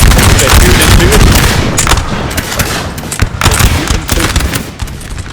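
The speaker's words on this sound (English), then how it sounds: "Austrians got a good volley to their face" Musket volley fire in Napoleon Total War during a battle between French and Austrian troops, loud ragged crackling bursts of many shots overlapping in a dense, continuous barrage.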